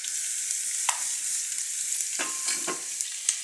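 Chopped garlic fries in a hot pan while taioba greens are readied, a steady close sizzle with a few soft stirring scrapes and light clicks over three and a half seconds.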